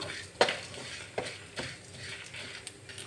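Ingredients are dry-roasted and stirred in a kadai over a medium flame for a ivy gourd (kovakkai) curry: faint sizzling under occasional scraping strokes of a spoon against the pan.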